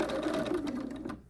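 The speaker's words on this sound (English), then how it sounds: "I'm just going to run it back and forth a few times. Back stitch, back stitch." A sewing machine runs a quick back stitch while sewing easy elastic-waist pants, giving a steady, close mechanical whir that slows and stops after about a second.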